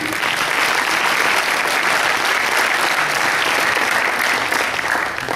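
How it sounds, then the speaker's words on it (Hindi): Sustained, loud applause from a large crowd at a live comedy show, steady and dense throughout with no pauses. "आप सबसे गुजारिश करता हूँ इनके सम्मान में जोरदार तालियां"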